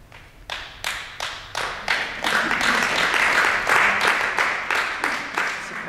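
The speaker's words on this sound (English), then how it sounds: "Applause." Audience at a gathering's keynote address starts with a few slow, distinct claps that quickly build into full, steady applause filling the room.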